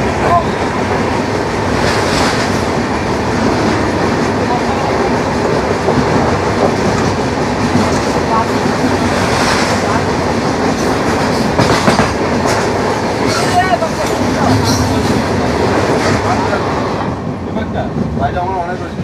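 The 15960 Kamrup Express passenger train runs along from Dimapur toward Kolkata, a loud steady rumble with clickety-clack wheel beats heard from inside the carriage, with some talk mixed in.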